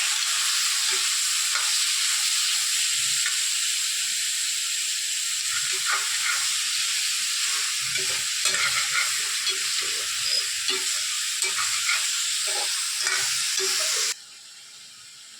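Steady sizzling of oil in a pan with repeated scraping and stirring strokes as turmeric and spices fry for Andhra spicy chicken, close and continuous, with no voices.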